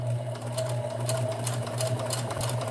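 A sewing machine stitches steadily on a first-ever sewing project, with a loud motor hum and fast, even needle clatter running without pause and heard up close.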